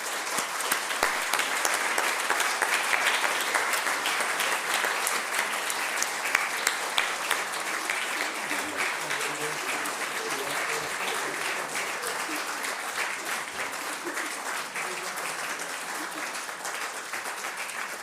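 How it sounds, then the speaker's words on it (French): Audience at a public session of an arts academy's class applauds a scholarship recipient, a dense, steady sustained round of clapping lasting throughout with no speech. "que nous pouvons applaudir"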